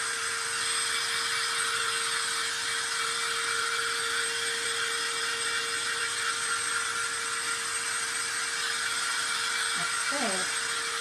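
A hair dryer blows on paint on a DIY trick-or-treat bag, a steady loud whooshing hiss with a constant hum that continues unchanged from start to finish.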